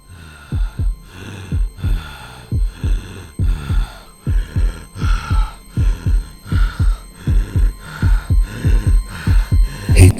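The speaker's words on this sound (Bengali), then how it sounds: "হৃৎপিণ্ডটি ধক করে উঠল।" Heartbeat sound effect in a detective audio drama, a steady series of deep, paired thumps repeating at a regular pulse, loud and close with no talking over it.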